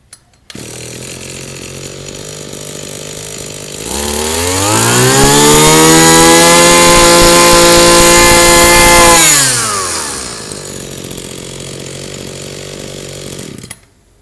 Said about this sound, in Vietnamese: Em sẽ giật nổ các bác nghe thử cái mã số EG11.